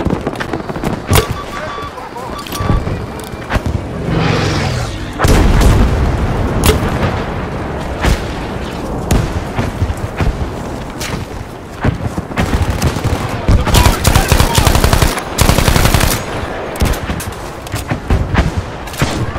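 Gunfire and artillery from the game Battlefield V form a loud, dense barrage of rapid shots, bursts and heavy booms, with voices calling out amid the firefight.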